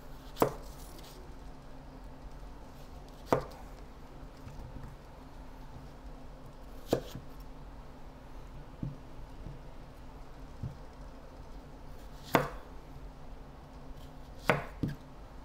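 Knife chopping through food on a cutting board, sparse sharp single chops spaced several seconds apart over a quiet background, close and fairly crisp, no talking.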